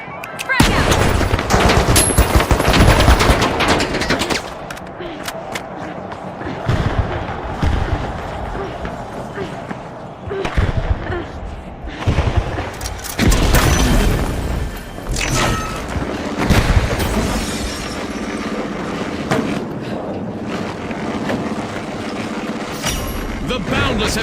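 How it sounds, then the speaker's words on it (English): A frag grenade thrown and exploding in the video game The Finals, amid loud bursts of gunfire, booms and a voice calling out, with dense combat noise filling the whole stretch. "Throwing a frag!"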